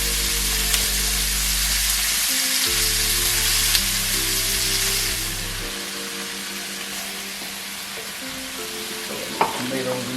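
Tomatoes fry with roughly chopped garlic in a pan, giving a loud, continuous close sizzle that eases slightly partway through, with occasional clinks and one sharp utensil knock near the end, and no one talking.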